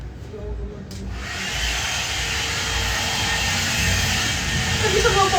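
A hair dryer starts up after a brief click and blows with a steady, loud airy whoosh and whine that holds constant, with a voice faintly present beneath.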